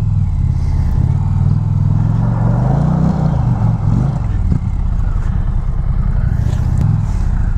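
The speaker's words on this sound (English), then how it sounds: "just all out, peeling out, lots of power" An Indian motorcycle peels out with traction control off, giving a loud, close engine roar that swells and dips in pitch as it accelerates, steady throughout.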